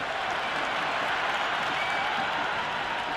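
Crowd roar from a Cricket 26 video game IPL match, CSK against MI, after a big hit sails into the stands, a steady wash of cheering and clapping held at a moderate, even level.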